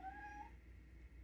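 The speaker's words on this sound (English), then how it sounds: "That's my cat. She likes to talk." A pet cat gives one short, faint, rising meow in a quiet room, heard alone without talk.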